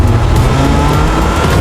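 A car engine in Fortnite revs loudly and close, a continuous throaty roar that holds steady for a moment with slight surges in pitch.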